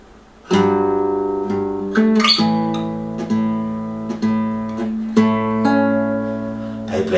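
Fingerstyle guitar plays measure 16 of a piece from Lord of the Rings: bass notes ring under plucked melody notes in a slow, clear phrase with a few sharp attacks, close and alone.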